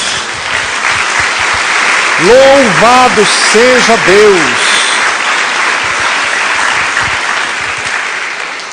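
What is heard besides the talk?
congregation applauding in church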